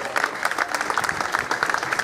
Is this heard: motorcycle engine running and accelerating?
no